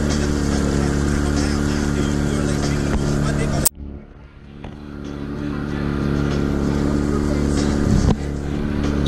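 A real boat's motor running on the water, a loud steady engine drone with a sudden cut and dip, then the engine note building back up, with someone speaking nearby.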